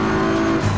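A race car engine in Assetto Corsa Competizione holds a loud, steady droning tone, close and continuous with a slight pitch shift near the end.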